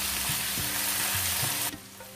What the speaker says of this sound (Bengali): এবার এর মধ্যে এই চিংড়ি মাছটা আমি দিয়ে দিচ্ছি